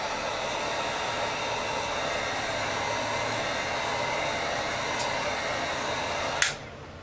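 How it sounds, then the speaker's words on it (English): An air dryer blows steadily, close and loud, over a freshly painted part of a model Reliant car, a constant broadband hiss that runs the whole time before cutting off with a click near the end. "we'll give it a little bit of an air dry"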